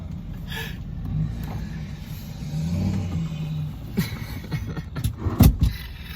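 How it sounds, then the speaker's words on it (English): A car engine revs and rumbles during a burnout at moderate distance, with a rising drone and a few sharp bursts near the end, no talking. "Do a burnout."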